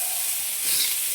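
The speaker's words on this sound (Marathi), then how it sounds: "याच्यामध्येच आपण मिरची पण तळून घेणार आहे" Green chillies frying in a pan give a steady, close sizzle with a soft hiss of steam, continuous and even throughout with no talking.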